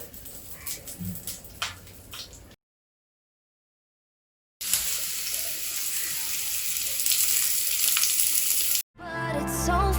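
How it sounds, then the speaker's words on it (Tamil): Fish frying in oil with curry leaves sizzles in bursts, with a steady hiss broken by short silences and some clinking kitchen noise near the end. "எப்பவுமே மீன் பொரிக்கும் போது கொஞ்சம் கருவேப்பிலை தூவி விட்டிங்கன்னா டேஸ்ட் சூப்பராக இருக்கும்."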